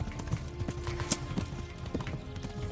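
Horse hooves clip-clop at a quick galloping rhythm in the medieval video game Kingdom Come: Deliverance, fairly quiet and steady, with low rumbling beneath.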